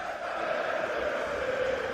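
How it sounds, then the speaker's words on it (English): Crowd cheering in a FIFA video game stadium at an international Nations Cup semifinal with Italy, a steady, moderately loud roar of many voices that rises slightly and holds across the moment, with no commentary. "Every single second ball that Italy have won is being cheered"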